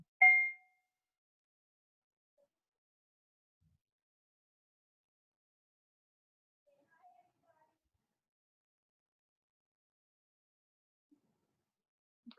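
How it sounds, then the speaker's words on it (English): A small brass singing bowl struck once near the start, a bright ringing tone that fades quickly, then near silence with a few faint soft sounds. "So I'm just going to ring this little brass bowl."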